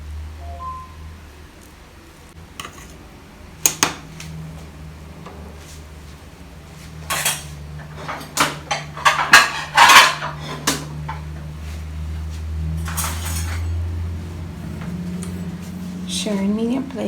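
Dishes and cutlery clink and clatter in short irregular bursts as plates of homemade callaloo rice with Scotch bonnet pepper are served, close by over a low steady background hum.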